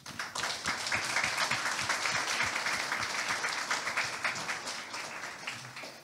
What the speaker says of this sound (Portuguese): para quem vos peço uma salva de palmas